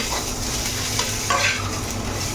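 Dal being tempered in hot oil in a home kitchen, a steady close sizzle with a brief stir or clink partway through, no voices.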